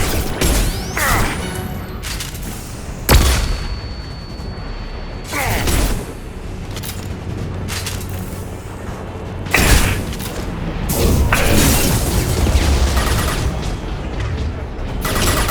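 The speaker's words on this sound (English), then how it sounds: "Watch out, flashbang!" Flashbang grenades and gunfire in the Mass Effect 2 video game, with several sharp booms and crashes breaking through a dense, continuous battle din, along with mechanical clatter and occasional voices.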